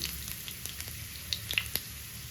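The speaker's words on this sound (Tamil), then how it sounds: "அதே எண்ணெயில் கொஞ்சமாக நான் பூண்டு சேர்த்துக்கிறேன் அது கூட கொஞ்சம் ஜீரகம் சேர்த்துக்கிறேன்" Garlic and cumin seeds hit hot oil in a pan for a spicy Tamil brinjal curry, giving a faint, steady sizzle broken by a few small crackling pops.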